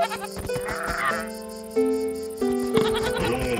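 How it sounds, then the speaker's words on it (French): Sheep in the medieval colony game Going Medieval bleat several times in quick succession, close and clear against a soft game background. "Ici il y a des moutons."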